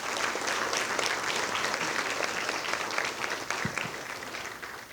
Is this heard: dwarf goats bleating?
no